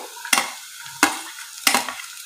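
Carrot, capsicum and cabbage get stirred into reddish fried onion in a pan: three distinct scraping stir strokes, evenly spaced, over a soft steady sizzle, close and alone.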